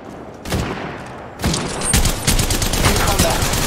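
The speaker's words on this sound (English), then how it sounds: "Hey, I'm getting shot!" Gunfire in the mobile shooter game Apex Legends Mobile, close and loud, with several dense bursts of rapid shots that start after a brief lull and keep going, layered thickly over one another.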